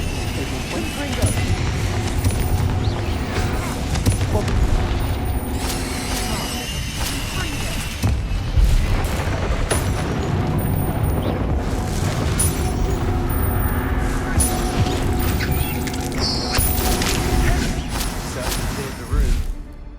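Casting the Confringo explosive spell in Hogwarts Legacy brings booming blasts and rumbling combat noise under a dense game soundtrack, with voices talking over it throughout.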